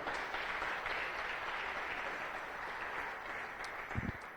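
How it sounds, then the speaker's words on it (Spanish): A church congregation claps together in a steady, sustained wash of applause that stays even throughout, with a low thump near the end. "Dale una ofrenda de palmas al Rey de Reyes."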